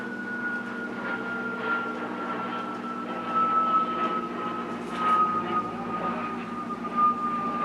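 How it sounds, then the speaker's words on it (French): Airplane passing overhead in a quiet neighbourhood, a steady droning whine with a slowly falling pitch that swells briefly at moments, distant and fairly faint, with no talk. "il y a un avion"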